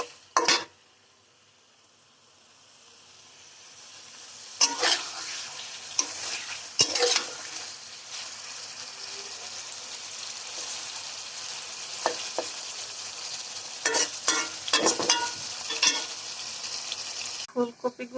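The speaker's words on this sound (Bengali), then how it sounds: "মাছটা ভালো করে ভেজে নিব এইভাবে নেড়েচেড়ে।" Spiced pabda fish fries in hot oil in a pan, a constant sizzle broken by repeated scraping clinks of a spatula stirring and turning the pieces, close and fairly loud.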